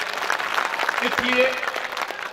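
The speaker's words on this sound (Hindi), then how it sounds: "एक बार दोनों हाथ खड़े करके जोरदार तालियां बजाई मुशायरा कमेटी के लिए" Dense, continuous clapping from an audience at an Urdu poetry mushaira in Parbhani fills the clip, with a voice speaking briefly over it midway.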